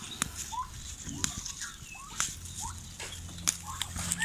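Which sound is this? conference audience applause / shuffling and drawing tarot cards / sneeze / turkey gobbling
turkey gobbling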